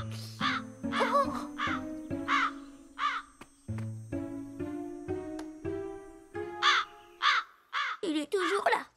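Cartoon crow cawing in a run of repeated harsh calls, close and loud, mixed with a deep bird-like voice and speech sounds across a short animated scene.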